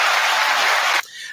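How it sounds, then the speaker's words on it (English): A studio audience claps together in a brief, dense burst of applause that cuts off sharply after about a second, with no voices over it. "let's go ahead and give them a hand clap real quick"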